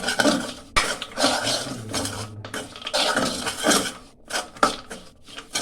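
A spoon scrapes and clinks against a pan in uneven strokes, a close, busy stirring of spices with garam masala and chaat masala, with metallic knocks.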